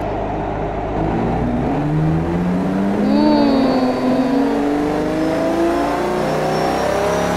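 A muscle car engine in the Automation game with a wide, loud exhaust revs up and holds a rising, droning note that sweeps higher, then settles back, steady and close with no talk over it.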